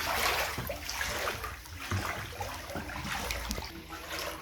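Floodwater inside a house in Panabo City, Davao del Norte, sloshing and trickling continuously with soft splashes, close and fairly loud, no speech.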